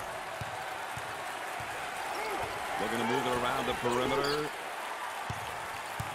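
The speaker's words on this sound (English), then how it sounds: "Listen to the crowd." Arena crowd in an NCAA basketball video game, Temple at Houston, a steady roar that swells midway with a brief cheer, running under continuous play-by-play commentary.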